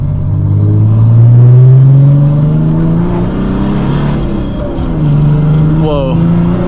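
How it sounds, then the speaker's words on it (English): A 1995 Mercedes E300 turbo diesel accelerating hard up an on-ramp: loud, steady engine drone rising in pitch through the gears, with a shift partway through, heard from inside the car. "we'll see if we can do some faster acceleration here onto this on-ramp"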